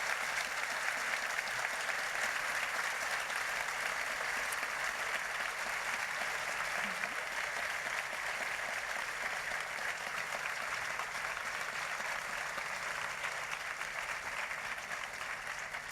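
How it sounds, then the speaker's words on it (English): A large audience at a literary festival talk applauds warmly for the whole stretch, a dense and steady wash of clapping from many hands with no letup and no voices over it. "I think that applause shows exactly how much the audience have appreciated this afternoon."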